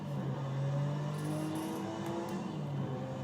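Nissan Skyline GTR R34 racing car in Project Cars 2 held at full throttle, a steady loud engine drone with rising tonal whine as revs climb, continuous and without talk.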